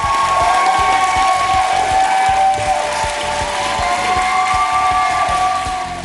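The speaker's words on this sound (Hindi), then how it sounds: "पूरा हॉल तालियों की गड़गड़ाहट से गूंज उठा।" Applause and cheering fill a hall after Sadiq Khan is announced as London mayor, a dense continuous roar of clapping from a large crowd, steady and loud throughout with tonal noise mixed in.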